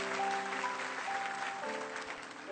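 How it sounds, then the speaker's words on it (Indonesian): Applause from a congregation at a church service, a steady broad wash of clapping that fills the whole stretch at an even level, with some tonal background sound beneath it. "Beri tepuk tangan untuk Tuhan Yesus."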